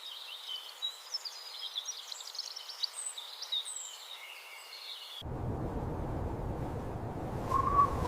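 Snowy owl calling in several short whistled hoots over a quiet background, followed by a sudden shift to a low, rumbling wind-like noise with a faint chirp near the end.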